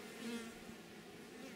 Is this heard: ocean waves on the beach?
no